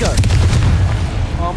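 A Confringo explosive spell blast from Hogwarts Legacy goes off as a loud booming crack with sharp gunfire-like bursts, quickly followed by more rumbling thuds and a faint voice underneath.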